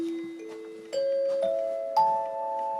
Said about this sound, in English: These are the original radio chimes that radio stations used to have in all the studios